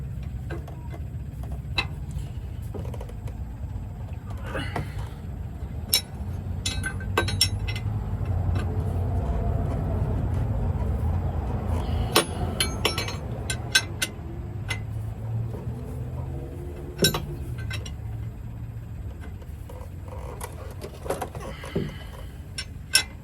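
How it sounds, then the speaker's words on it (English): Metallic clicks and clinks from a wrench tightening a truck's disc brake chamber ring out sporadically over a low background rumble, some sharp and close, others fainter. "I'll just tighten up with the other wrench."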